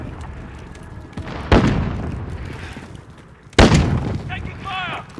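Gunfire and blasts in the battle royale game Warzone, two sharp loud booming bursts a couple of seconds apart over a rumbling background, with radio chatter and electronic game tones around them.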